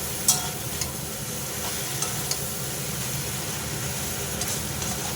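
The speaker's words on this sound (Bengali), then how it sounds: "আলু সয়াবিন সমস্ত মশলা দিয়ে ভালো করে কষিয়ে নিলাম" Potato, soybean chunks and spices being sautéed in a pan for a fish-head soybean curry, giving a steady close sizzle with a few light clinks and stirring scrapes, no voices.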